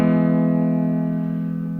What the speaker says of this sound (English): And it's based upon the major chord.